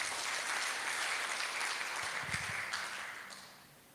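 Church congregation applauding during a sermon, a broad wash of clapping that holds steady and then fades away toward the end, with no talk over it.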